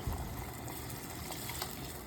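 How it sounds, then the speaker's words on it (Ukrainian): A steady stream of water pours and splashes into a pan at moderate volume for a couple of seconds, with no voices. "Полю кружку водички"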